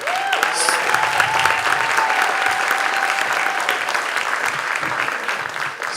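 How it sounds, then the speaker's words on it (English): An awards ceremony crowd applauds the main actors with sustained, dense clapping that stays loud and even, while a faint tonal sound rings briefly near the start. "I would like to give them a round of applause"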